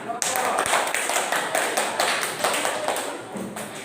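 Students in an elementary classroom applauding a group presentation during a lesson on sujud sahwi, a brisk continuous patter of many hands clapping close by, with faint voices underneath.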